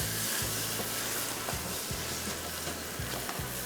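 Minced meat (qeema) with tomatoes frying in a pan, a steady close sizzle with periodic low scraping stirs every half second or so, no voices.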